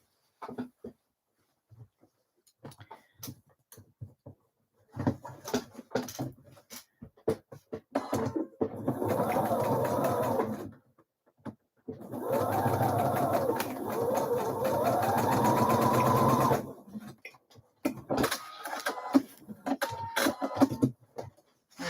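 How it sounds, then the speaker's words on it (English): A sewing machine stitches across a pleat on a Frida blouse at a one-centimetre seam allowance, running in two sustained bursts of whirring with short pauses and scattered clicks and handling noise between them. "I'm just going to stitch across at 1 centimetre seam allowance to keep that in place"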